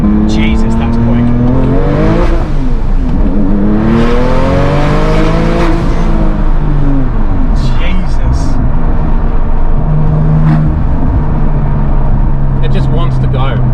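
A 750hp modified Porsche 911 997 Turbo accelerates hard, with a loud, sustained engine roar that rises and falls in pitch through the gears and a hiss of turbos on top. People talk over it from inside the car.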